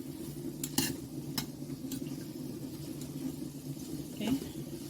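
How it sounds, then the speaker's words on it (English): Vegetables sautéing uncovered in a pan give a low, steady frying hum, broken by a few sharp utensil scrapes and clinks against the pan. "So I will just continue sauteing them like this without covering them,"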